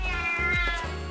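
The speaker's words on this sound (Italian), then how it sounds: "Il gatto spaventato graffia la faccia della ragazza!" A frightened cat gives a rapid run of loud, close meows, each call rising then falling in pitch, with a short gap between them.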